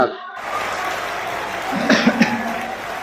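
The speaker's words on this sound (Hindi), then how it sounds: "मुझे एक बार जोरदार ताली बजा करके हुक्म दीजिए" A mushaira audience breaks into loud, sustained applause after a brief silence, with a few scattered whoops and laughs rising near the end.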